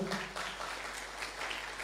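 A brief burst of applause from a church congregation during a worship service, steady clapping at moderate volume lasting under two seconds.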